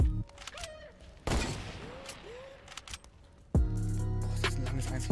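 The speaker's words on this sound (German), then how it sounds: "Schieß ihn ein bisschen mit dem Revolver" Revolver shots crack out in Fortnite in separate loud bursts, with game effects and a dense barrage of fire near the end.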